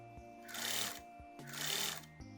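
Two short, soft bursts of sewing machine stitching along the sleeve hem of a shirt sewn from a bedsheet, each run lasting about half a second over a faint steady motor hum in a quiet room.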